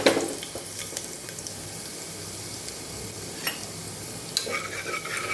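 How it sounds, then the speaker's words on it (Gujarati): Finely chopped garlic cloves sauté in hot oil with a soft, steady sizzle, broken by a few clinks and scrapes of a stirring spoon, with no one talking. "આપણું તેલ ગરમ થઈ ગયું છે તો લસણની કળીઓ ઝીણી ઝીણી આપણે સુધારેલી એ પહેલાં સાતળી લેવાની છે"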